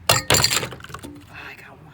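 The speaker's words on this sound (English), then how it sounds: "Do you think I can hit this plate and knock those eggs into that glass?" A plate knocked out from under eggs that drop into glasses of water, giving two sharp close clinks of glass and crockery in quick succession, followed by fainter rattling and voices.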